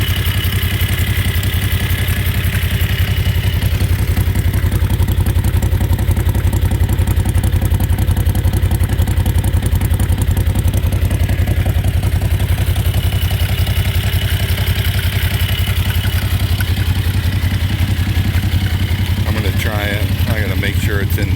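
Predator small engine powering a Jeep, running steadily and loud at close range for the whole stretch, with a continuous mechanical clatter that fits a worn, noisy pillow block bearing, and a voice talking over it.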